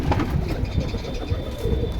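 Silver beji pigeons coo in short, low repeated calls close by, with soft rustling and background murmur around them.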